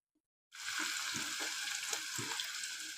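Gooseberries and onions drop into hot oil for a hair oil preparation, setting off a sudden loud, bright sizzle after a brief silence that stays strong and crackling, with small stirring knocks underneath.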